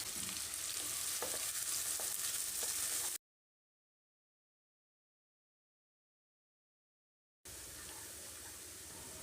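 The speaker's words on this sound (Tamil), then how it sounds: "பொடியாக நறுக்கிற 2 பெரிய வெங்காயத்தை சேர்த்து பொன்னிறமாக வதக்கிடலாம்" Steady sizzling of two chopped onions frying in a pan, loud and close, cutting out to silence midway before the sizzle returns.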